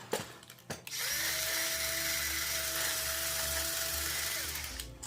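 Classic Army Stoner 96 airsoft LMG firing, a steady loud electric motor-gearbox whine sustained for about four seconds after a few short clicks, then cutting off.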